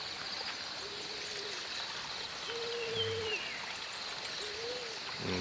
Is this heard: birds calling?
yes